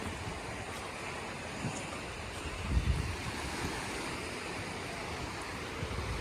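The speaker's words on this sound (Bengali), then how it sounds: "এবার খুব কাছ থেকে সাগরের ঢেউ দেখবো।" Sea waves at Mousuni Island beach wash in as a steady low roar with gusty wind noise on the microphone, one wave surging a bit louder midway.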